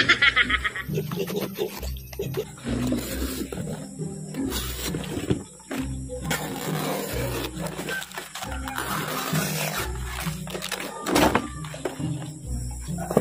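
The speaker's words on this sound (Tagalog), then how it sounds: "Ang baboy dito guys, sige nagmauk-ngauk." Pigs grunt repeatedly at close range, a steady run of rough, nasal snorts over a busy, cluttered background that carries on through the whole stretch.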